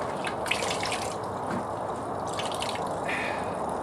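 Water drains steadily from an opened copper plumbing line during an HVAC leak repair, making a continuous close trickling and splashing rush with no talk.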